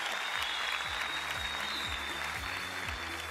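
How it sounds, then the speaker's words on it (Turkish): A crowd applauds steadily for a contestant on the stage of a Turkish talent show final, dense continuous clapping filling the hall with a low musical tone running beneath. "Tam bir baba tavrıyla Alp Kırşan'a büyük bir sezon alkışı gelsin buradan"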